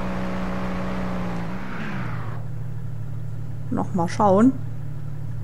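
Car driving in the LEGO Jurassic World video game: a steady low engine hum runs throughout, shifting pitch partway, while a voice talks over it and a short burst of game creature or effect sounds rises near the end.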